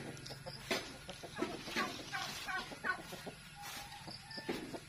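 Chickens cluck in short, irregular bursts, several birds close by, with brief bird calls and faint farmyard background noise.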